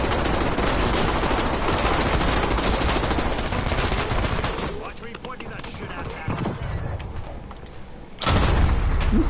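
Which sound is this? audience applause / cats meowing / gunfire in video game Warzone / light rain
gunfire in video game Warzone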